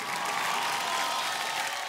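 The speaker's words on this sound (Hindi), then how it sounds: "जोरदार तालियां मिर्ची अवार्ड के लिए" Audience applause at the Mirchi Music Awards ceremony, a dense, steady wash of clapping from a large crowd, filling the short moment evenly without any voices on top.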